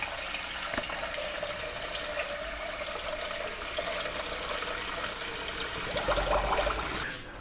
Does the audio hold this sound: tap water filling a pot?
yes